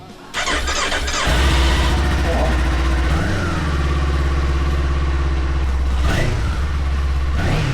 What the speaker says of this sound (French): se faire un petit démarrage